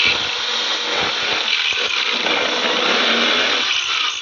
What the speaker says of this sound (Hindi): तो हम लोग 5 mm की ड्रिल बिट लॉक कर रहे हैं ताकि हम लोग इस पेन पे ड्रिल मार सकेंगे।